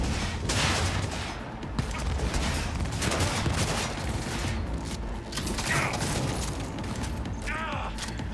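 Sustained gunfire rattles through a Cyberpunk 2077 combat scene, with dense rapid shots, mechanical clanks and occasional booms at a constant loud level, and voices talking amid the shooting.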